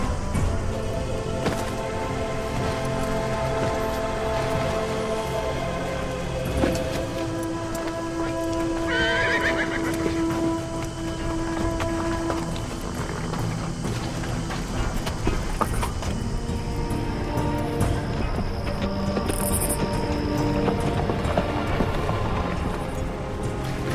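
Horses on a rugged mountain path in a fantasy adventure series give a drawn-out neigh amid steady clip-clopping hooves, all set within a continuous dense outdoor ambience.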